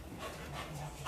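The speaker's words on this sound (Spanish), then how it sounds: "Ese es un perro que han recogido de la calle." A rescued street dog pants quickly and softly nearby, a quiet steady run of breaths at a low level with no one speaking over it.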